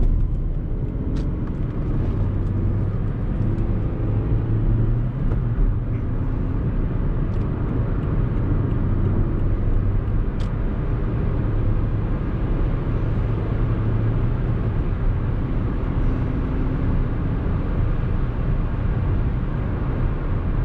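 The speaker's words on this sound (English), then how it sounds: "We exit the roundabout and hit the accelerator." A 2008 Suzuki Swift 1.3 engine accelerating out of a roundabout, heard from inside the car as a steady, loud low drone with a faintly rising engine tone and road rumble.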